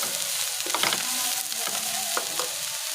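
Carrots and mixed vegetables being stir-fried in a pan for pasta, with a steady sizzle under repeated scraping and tossing of a spatula, close and continuous for the whole stretch.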